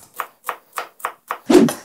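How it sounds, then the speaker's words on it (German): Kitchen knife dicing vegetables into small cubes on a cutting board, five evenly spaced crisp chops followed by a heavier, fuller thud, close and clear with no talking. "Einfach so ein paar Würfelchen machen."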